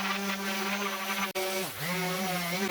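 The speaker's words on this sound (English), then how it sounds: "So back to sanding." Power sander working on white painted wooden diffuser pieces, a continuous steady whine with harmonic hum, briefly cut and dipping in pitch as it bogs under pressure, close and alone.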